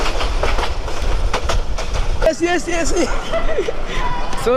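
Train running on the Chittagong to Sylhet route, with rhythmic clickety-clack of wheels and rail rumble, then a loud rising and falling whistle-like squeal over ongoing noise; people talk in the background.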